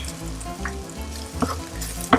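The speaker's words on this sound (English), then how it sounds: "I'm just going to saute those two together for a few minutes, get that sauerkraut heated through" Sauerkraut and minced garlic sauté in a pan, a steady soft sizzle with a few light stirring clicks and scrapes, close by and without voices.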